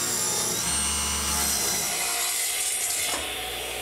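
A power saw rips a strip from a 2x4 wooden board, a loud continuous whining cut lasting about three seconds before the blade runs down.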